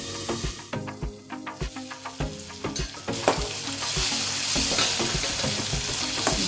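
Tomatoes with chili powder cook in a pan, with soft sizzling under a series of distinct spoon stirs and scrapes in an irregular rhythm, close and fairly quiet, settling into a steadier frying hiss.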